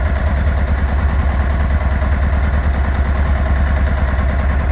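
A 2003 Honda CBR600RR sport motorcycle, a low-mileage first-production-year bike, idles steadily at close range with an even, loud, throbbing engine pulse and no voices.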